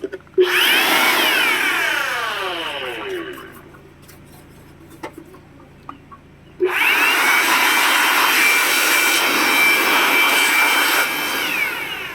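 Two long bursts of loud, hissing rushing air from a blower cleaning dust out of a computer case, separated by a quieter stretch with a few faint clicks and knocks.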